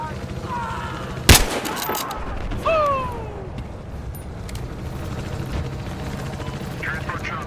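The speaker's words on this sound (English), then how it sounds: "Transport chopper right there." Transport helicopter in Battlefield Hardline rumbling steadily through a game firefight, with a sharp loud gunshot crack and scattered weapon noise over the rotor drone; a voice talks over it.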